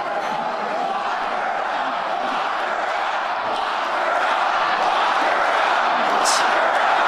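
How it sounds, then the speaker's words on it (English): A large crowd at a Trump rally in Wisconsin, a dense continuous roar of cheering and chanting that swells slightly louder toward the end. "right before Trump gets up there. And let's hear his crowd"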